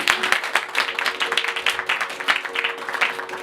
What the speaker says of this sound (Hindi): बहन के इस पैगाम के लिए मैं चाहता हूँ आप जोरदार तालियां बजाएं।